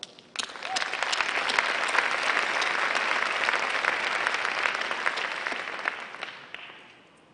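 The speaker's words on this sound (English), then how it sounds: "you deserve a round of applause." An audience at a National PTA convention breaks into loud, sustained applause, many hands clapping steadily for several seconds before it fades out, with no talking.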